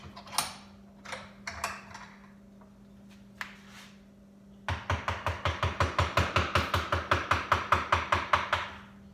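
A mallet drives a chisel to outline a wood carving: a few scattered taps at first, then a steady run of crisp, evenly spaced blows over a low background hum.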